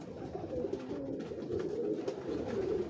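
A rooftop pigeon coos in soft, low rolling phrases, close and steady, repeating through the stretch with a faint background hum behind it.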